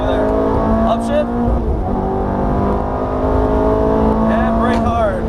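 A Ferrari F430 race car accelerating on a track, its engine note climbing in pitch as the throttle opens, loud and close with a steady drone. A voice talks over the engine.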